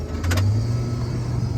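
A 2188 combine harvester engine runs with a steady low drone, close and fairly loud, with a brief higher whine near the start.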